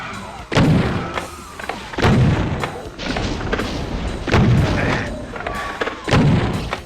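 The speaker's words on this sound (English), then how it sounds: "The only new weapon in Doom 2 is the double barrel shotgun, which fires twice as many shells as the generic boomstick" A double-barrel shotgun fires in the video game Doom II, five heavy, booming blasts spaced roughly every one and a half seconds, each with a rumbling tail and reload clatter between.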